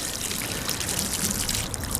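Water is poured heavily onto the zips of a 2023 Maver pole protector case, making a continuous splashing, trickling hiss that stays close and steady for the whole stretch, with no voices.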